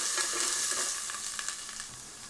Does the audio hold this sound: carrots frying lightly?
yes